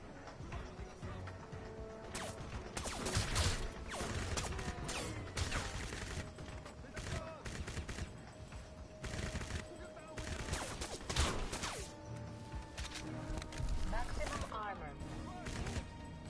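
Sustained gunfight in Crysis, with bursts of gunfire and crashing impacts clustered throughout, moderately loud and dense, with occasional game voices in the mix.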